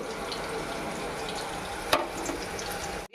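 Ingredients for bitter gourd karam podi fry in oil with a soft, even sizzle, broken by one sharp utensil clink and light stirring before it stops abruptly.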